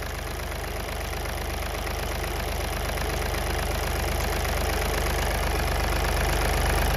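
VW Polo engine idling steadily with a faint turbo actuator noise, a continuous close mechanical hum with a fine ticking texture that holds at an even level throughout.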